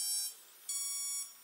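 A Blade 150 S RC helicopter sounds its initialization beeps: two faint high electronic tones, each about half a second long, in a quiet room.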